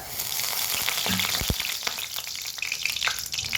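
Hot oil sizzles and crackles in a pan on the stove, a dense steady frying hiss with occasional pops, close and loud, with no talking.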